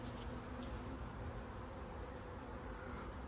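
Bees in a collapsing hive colony with no nurse bees make a dense, continuous drone at a moderate, even level throughout.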